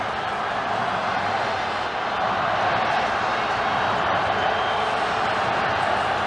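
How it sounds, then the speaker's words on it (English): A large stadium crowd roars steadily at the MCG during an Australia v Iran football match, applause and chanting blending into one dense, loud, unbroken wash of sound throughout. "Azizi takes the applause"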